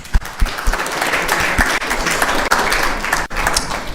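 A crowd applauds steadily at an ISKCON temple Sunday Feast program, dense clapping filling the room at a loud, even level throughout.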